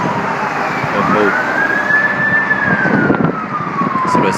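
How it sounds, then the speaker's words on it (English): An emergency vehicle siren sounds loud and fairly near outdoors, one long rising and falling wail over steady traffic rumble, with faint talk in the background. "That's what I say every time I hear sirens."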